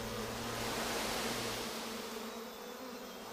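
A honeybee colony buzzes as a dense, steady hum of many wings, close and continuous, with no voices.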